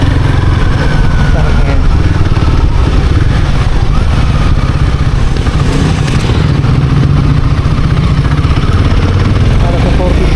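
A 2024 Royal Enfield Guerrilla 450 roadster engine idles close by with a loud, steady, throbbing rumble throughout, and voices come through faintly underneath.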